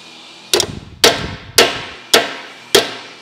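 Five sharp hammer blows on thin, soft 1050-grade aluminium sheet, evenly spaced and close, each ringing briefly before the next strike.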